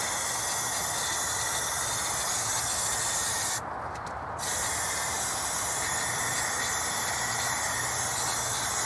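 Close, continuous hiss of an aerosol spray paint can coating an abandoned arcade cabinet being restored, with one short break in the middle before the spraying resumes.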